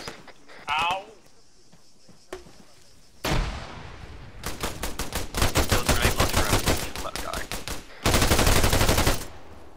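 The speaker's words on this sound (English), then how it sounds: "that machine gun is really good that's in there, the HK-121" HK-121 machine gun in Arma 3 fires in long rapid bursts, loud and close, with sharp single reports and brief pauses between strings of fire; a voice is heard at the start.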